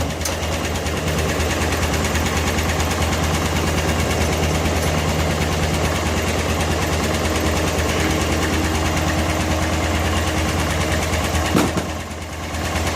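A 1988 Club Car golf cart engine fitted with a new carburetor and fuel pump runs loud and steady throughout, with a rough, rapid firing chatter, then briefly dips near the end before picking back up.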